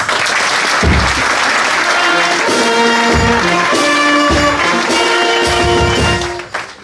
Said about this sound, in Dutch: Geef je dus een applaus.